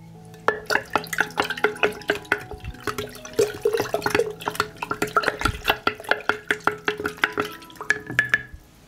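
A spoon stirring sugar into a water and yeast fertilizer mix, sharp clinking knocks against the container in a quick, fairly regular rhythm with liquid sloshing, close and clear.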